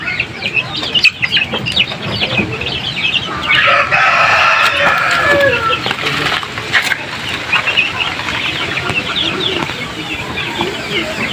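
Chicks in a coop, suffering from swollen faces, cheep and cluck steadily at close range, with the calls thickening into a busy, overlapping chorus in the middle stretch.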